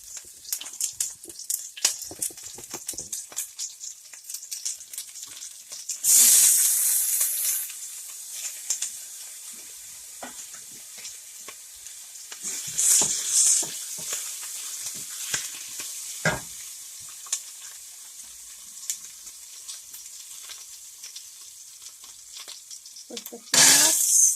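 Curry leaves and green chilies dropped into hot oil crackle and sizzle steadily, with sharp hissing bursts flaring up a few times as ingredients hit the pan, close and loud, with some stirring and no voice.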